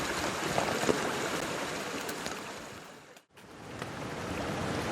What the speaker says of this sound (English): We're following the stream up to the waterfall